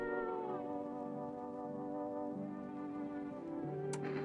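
A cat meows in a video game as it is petted, a drawn-out wavering cry that rises and falls several times, quiet and close, with a brief click near the end and no talking.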